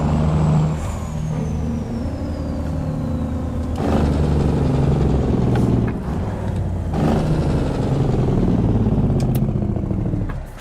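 Big Cam Cummins truck engine in American Truck Simulator, a loud, deep diesel drone that rises and falls through gear changes, with sharp bursts of air release and clatter, and no talking.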